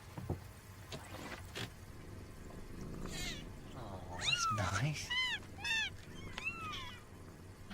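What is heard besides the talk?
kittens meowing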